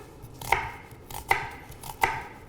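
A knife chops khinkali filling ingredients on a nearly dry cutting board, three sharp, evenly spaced strokes heard close up with nothing else around them.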